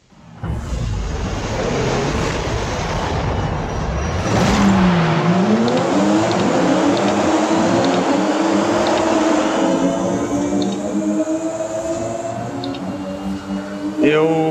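Toyota Supra racing in Forza Horizon 5, its engine revving up and down through gear changes, loud and steady throughout with someone talking over it.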